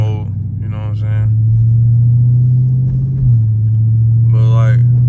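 A Dodge Scat Pack car in valet mode gives off a steady, loud low engine rumble while driving, holding a constant drone throughout with brief voice-like sounds over it.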